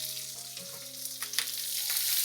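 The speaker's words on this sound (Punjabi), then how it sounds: "ਉਦੋਂ ਆਪਾਂ ਇਹਦੇ ਵਿੱਚ ਕੱਟੇ ਹੋਏ ਪਿਆਜ਼ ਪਾਵਾਂਗੇ" Chopped onions frying in hot oil with mustard seeds and a pinch of asafoetida for a spiny gourd curry, a soft hiss building to louder sizzling with a few sharp crackles and pops midway.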